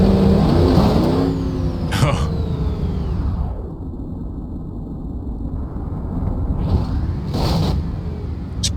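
Car in BeamNG.drive crashing and cartwheeling: loud engine roar with pitch sweeps, sharp impact bursts near the start and later, then a quieter rumbling stretch; a voice talks over part of it.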